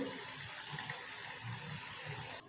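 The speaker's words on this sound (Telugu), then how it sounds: "చింతపండు పులుసు వేసుకుందాం బాగుంటుంది" Tamarind water pours into a simmering brinjal curry in a pan, a soft continuous gushing splash that runs steadily for a couple of seconds before cutting off, close but fairly quiet.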